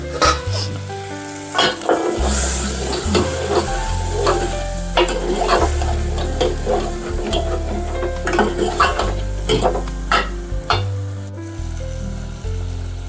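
Goat mutton with salt, turmeric and coriander powder is stirred in a pan, a steady sizzle under repeated scraping and clinking of a spoon against the metal pan, close and fairly loud, with no talking.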